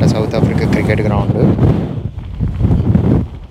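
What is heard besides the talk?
strong heavy wind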